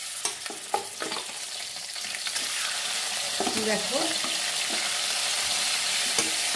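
Fish heads dropped into hot oil tempered with cumin, starting with sharp crackles and scraping stirs before settling into a steady loud sizzle, with a brief spoken word over it.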